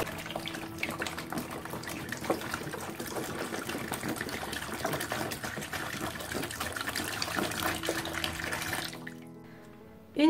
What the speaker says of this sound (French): Dedans, du coup, je vais mettre l'équivalent de 3 litres d'eau.